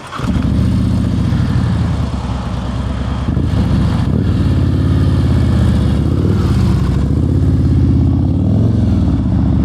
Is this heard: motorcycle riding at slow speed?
yes